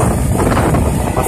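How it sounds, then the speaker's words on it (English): Wind buffeting a microphone at a Bay Ridge, Brooklyn 5th Avenue street fair, a loud steady low roar of rumbling gusts with no other sound breaking through. "hope the wind isn't too bad"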